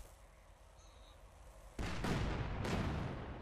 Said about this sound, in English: this thing is an absolutely massive cannon